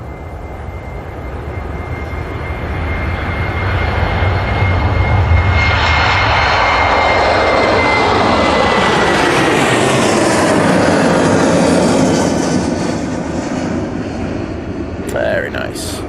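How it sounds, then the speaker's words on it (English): A KLM airliner takes off at Manchester Airport, its jet engines building into a loud, broad roar that peaks and slowly fades as it passes, with a voice talking over it. "KLM on the roll."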